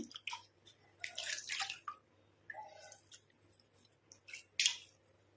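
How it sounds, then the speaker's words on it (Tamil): Splashing and dripping water from a face being washed by hand, a few wet bursts and squishy rubs with quiet pauses between, close and alone with no talking. "நான் இப்போ வாஷ் பண்ணியே காட்டுறேன் ஃபேஸை."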